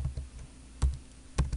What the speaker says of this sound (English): So I'm just going to start typing all these customers here up to Perry Abigail